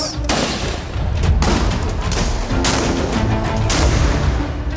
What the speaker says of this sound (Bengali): ঢাকার চারদিকে গুলি গুলি আর গুলি